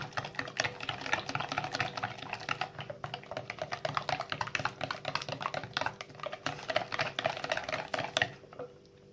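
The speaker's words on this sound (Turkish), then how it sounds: "karıştırıyorum." A spoon or whisk stirs poppy seed revani batter in a bowl, giving a steady run of quick, close tapping and scraping clicks that continues almost without a break.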